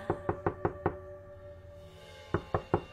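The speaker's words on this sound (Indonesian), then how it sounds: "terdengar suara ketukan di pintu apartemenku" Knocking on an apartment door: a quick run of five sharp raps, a pause, then four more, close and crisp against a low background hum.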